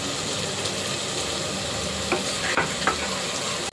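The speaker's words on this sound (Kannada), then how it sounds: "ರವಿ ಸ್ವಲ್ಪ ಫ್ರೈ ಆಗುತ್ತೆ ಚೆನ್ನಾಗಿ ಫ್ರೈ ಆದ ಸಾಕಿದ್ದು" Eggs frying in a pan with salt and chili powder give a steady, close sizzle, with a few faint stirring scrapes near the end.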